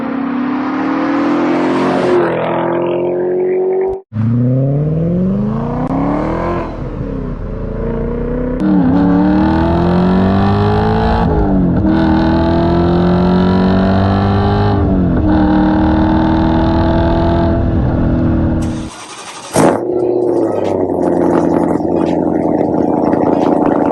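A German M-Power performance car engine revs hard and loud, climbing through repeated rising sweeps with brief gearshift breaks, close by and with no talk.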